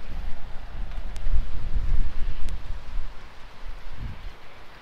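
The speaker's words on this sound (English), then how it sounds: "it's really windy" Gusty wind rumbles and buffets against the microphone in uneven surges, steady and fairly loud, with a couple of faint high ticks.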